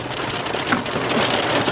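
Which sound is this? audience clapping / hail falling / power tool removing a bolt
hail falling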